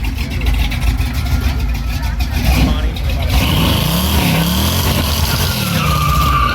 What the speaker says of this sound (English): It's got a 416 small block Chevy in it.